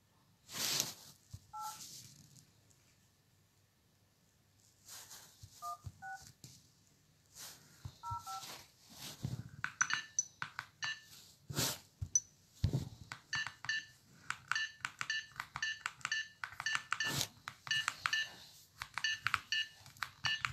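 Phone keypad tones beep while a message is typed: a few sparse tone pairs at first, then a rapid run of short beeps in quick succession over soft background noise.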